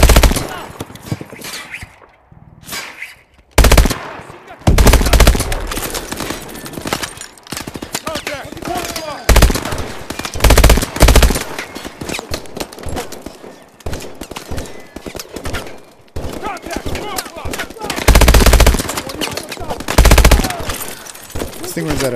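Automatic weapon fire in Call of Duty Advanced Warfare, loud rapid bursts and rattling volleys broken by short pauses, with a voice speaking between some of the bursts.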